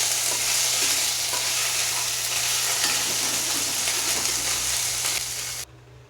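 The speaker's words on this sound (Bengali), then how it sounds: "এবার ভালো করে এটাকে নাড়তে হবে।" Potatoes frying with ginger paste in hot oil while being stirred, a steady loud sizzle with scraping stir noises throughout, cutting off abruptly near the end.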